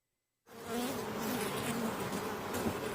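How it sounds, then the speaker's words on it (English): Bees buzz at a honey farm in Linden, North Carolina, a dense continuous drone that starts abruptly after a moment of silence and holds steady and close throughout. "We want to have as many bees as we can to make honey"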